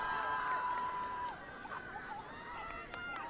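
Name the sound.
crowd cheering at beach lifeguard competition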